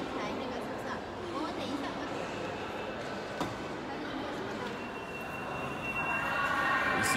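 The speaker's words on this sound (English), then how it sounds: "this is a train station. Dongguan train station, railway station in Dongguan" Echoing hubbub at Dongguan railway station, China: a steady wash of crowd chatter and rumbling rail noise, with a faint high squeal toward the end.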